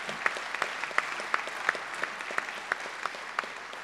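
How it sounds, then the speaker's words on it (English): An audience at a city's 2011 State of the City address applauds for a few seconds, a soft, sustained patter of clapping with a few sharper individual claps standing out at a moderate distance. "Please show them a round of applause"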